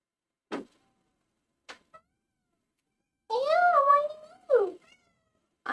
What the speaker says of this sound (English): You're just meowing. It's okay to meow.